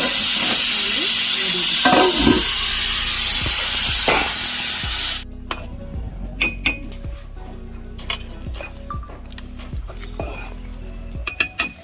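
Ghee rice in a pot, first a loud steady steam hiss, then the hiss cuts off to quieter bubbling with clinks and taps of utensils against the pot.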